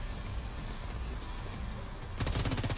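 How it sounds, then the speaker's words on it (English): Rapid indoor gunfire in The Division 2, a dense continuous rattle of shots with a reverberant room tone, which swells into a louder, sharper burst near the end. "My gun sounds different for when I'm inside or outside."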